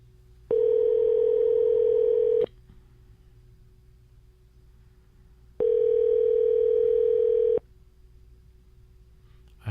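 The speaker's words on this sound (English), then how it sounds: "Can you hear it? Yeah, I hear it ringing." Ringback tone of an outgoing telephone call: two long, steady electronic ring bursts of about two seconds each, separated by a few seconds of quiet hum, clear and alone.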